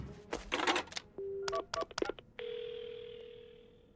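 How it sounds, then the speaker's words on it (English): A telephone in a horror video game being dialed to call an ambulance: quick clicking presses and a few short keypad tones, then a steady dial tone that holds to the end. "Right, the phone. I gotta call an ambulance."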